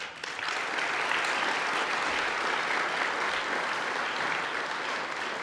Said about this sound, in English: We do want to give another round of applause to the 122nd Army Band.